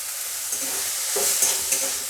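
Drumstick flowers frying with spices and potatoes in a pan make a steady, close sizzle, with a few soft stirring knocks rising above it.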